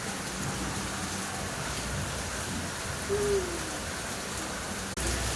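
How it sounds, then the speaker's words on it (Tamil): Steady rain falls in Tirupati as a dense, even hiss that fills the scene, with one brief hooting tone partway through and no talk. "ரொம்ப நாள் கழிச்சு திருப்பதியில் மழை பெய்யுது."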